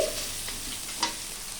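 Chili powder, turmeric and salt fry in a pan, a short, low, steady sizzle with one quick stirring scrape partway through.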